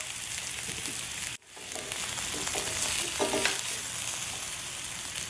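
Spicy tuna steaks sear in a hot pan with a steady, close crackle and hiss; the sizzle cuts out briefly after a second and then resumes with scattered pops, and no one speaks.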